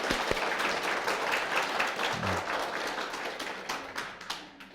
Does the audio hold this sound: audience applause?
yes